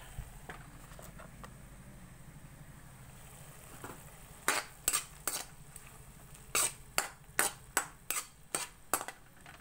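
Ginger is added to a pan of sautéed squid and stirred, a metal utensil striking and scraping the pan in a run of sharp, close clinks over a low sizzle, with no voices.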